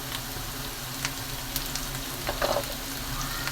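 Mint leaves sauté with onions in a pan for paneer gravy, producing a continuous close hissing sizzle with a few soft stirring scrapes and a brief crackle partway through.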